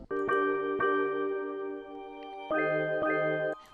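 A reversed sample note with reverb swells in bright tonal layers, a few sustained tinkling notes that cut off abruptly and restart, moderately quiet with no talking.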